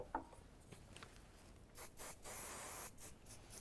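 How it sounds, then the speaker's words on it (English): Hairspray misted around the face of a styled hairdo: soft rubbing and brushing first, then a few hissing spray bursts, one held for about a second, all quiet and close. "with a little bit of hairspray just spraying around the face"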